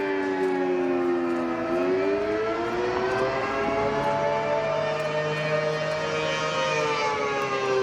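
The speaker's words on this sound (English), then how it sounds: "a tsunami is coming and the world's scariest siren is letting us know" A loud tsunami warning siren wails with a steady rising and falling tone throughout, sounding powerful and droning from a distance.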